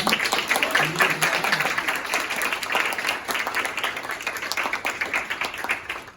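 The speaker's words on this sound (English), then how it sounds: "Big round of applause for them." A conference forum audience gives the panel a steady round of applause, dense clapping running the whole time at moderate loudness and tapering slightly toward the end.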